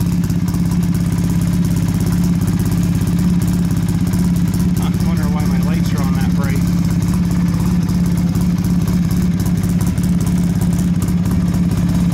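Polaris Sportsman 700 ATV engine running at a steady idle, a loud low droning rumble close to the microphone, with a short faint squeaky noise partway through.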